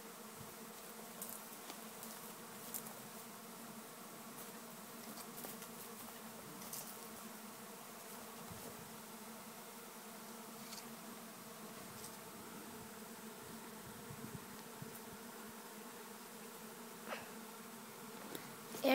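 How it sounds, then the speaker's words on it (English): A dense honeybee swarm hangs in a tree on a farm, making a faint, continuous insect buzz with scattered louder passes of individual bees near the microphone. "They're so dense with bees right there that even the camera picks them up."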